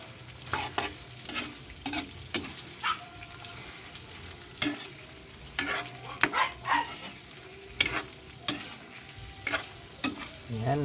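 Prawns fry in butter and garlic in a pan while a utensil stirs them, giving a steady sizzle broken by sharp scraping clatters at irregular intervals, close and with no talking.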